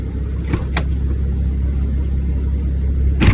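A Toyota car drives and climbs hills, a steady low engine and road rumble heard from inside the cabin, with a few faint clicks and a brief louder thump at the end.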